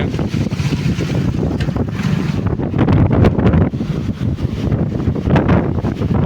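Strong, steady wind buffets the microphone in rough gusts on the bank of the flooded Bhadar River, with a low rumble of open water beneath and no voices.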